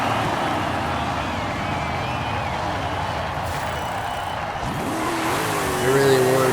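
A muscle car in Forza Horizon 5 holds a loud, steady engine roar through a burnout with squealing tires, then revs higher near the end.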